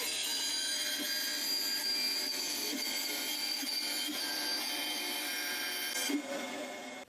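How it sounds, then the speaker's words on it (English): A bandsaw rips steadily through a wooden fishing lure blank, a dense, continuous whirring cut that holds at the same level for several seconds and then eases off near the end. "I'll take the bulk of this off with the bandsaw."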